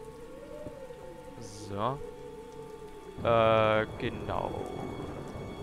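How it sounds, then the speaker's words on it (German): Steady rain falls through a dark night scene in a building game set in a Potter-themed world, a constant soft hiss under a man's brief speech and a few short voiced bursts. "Und es ist dunkel und regnet."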